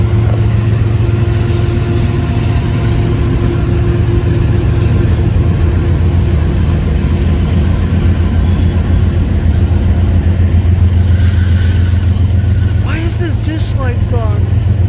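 A freight train locomotive engine rumbles steadily and loudly at a rail yard, a deep continuous drone with a brief higher squeal near the end and voices faintly in the background.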